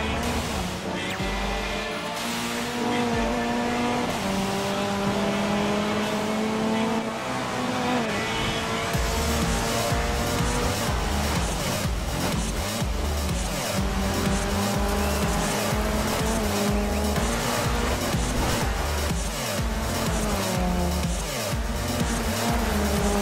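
Race cars in a racing video game roar through gear changes with rising and falling engine pitch, tires squealing and skidding through corners, loud and continuous for the whole stretch.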